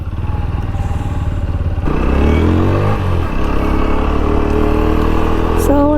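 A motorcycle engine runs loud and close at a Simhachalam temple entrance, idling and revving with clattering mechanical noise throughout, while a voice talks briefly over it.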